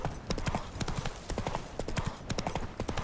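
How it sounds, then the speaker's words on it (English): A horse's hooves clip-clop in a fast, continuous galloping rhythm in The Witcher 3 video game, close and steady for several seconds, without a clear whinny. "You are a lazy horse."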